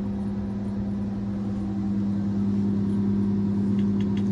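Tigercat LS855E forestry machine engine running at raised RPM, a loud steady diesel drone with a strong humming tone, close and continuous with no talk.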